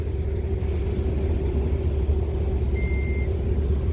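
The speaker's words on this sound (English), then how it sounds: "hold it down till the beeps" A single short electronic beep from the power lift gate of a 2021 Chevrolet Tahoe Premiere rings out over the steady low rumble of its idling 6.2 V8.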